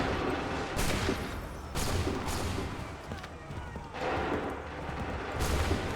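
Musket volleys fire in a video game set in the American Revolution, Assassin's Creed 3, as several loud, sharp bursts of massed gunfire that repeat at intervals of about a second over a rumbling battlefield background.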